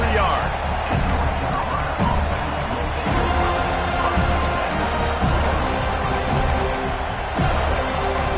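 Stadium crowd noise from the college football video game NCAA 26 forms a steady roar throughout, with cheering swells and thumping accents under continuous commentator talk.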